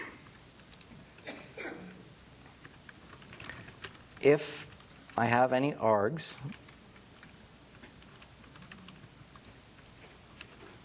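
Someone types on a computer keyboard close by, soft key taps under a man's speech, with one short burst of louder clicking in the middle.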